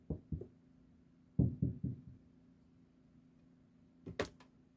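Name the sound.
knocking on a door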